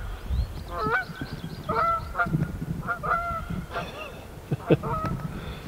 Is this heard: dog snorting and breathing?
no